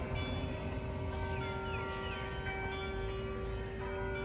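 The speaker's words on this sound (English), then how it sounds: "You can hear in the background the bells." Church bells ring on the Wellesley College campus, a steady sustained tolling with lingering overlapping tones heard from a distance across an outdoor setting, with no one speaking.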